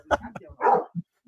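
A dog lets out a few quick, close barks and yips in an outdoor setting, with a short burst of louder barking in the middle and small fading sounds after.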